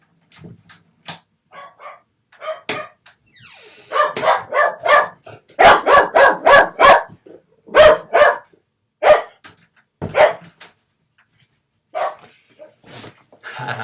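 A dog barks repeatedly in bursts, loud and close, with clusters of rapid barks separated by short pauses and a few softer yips.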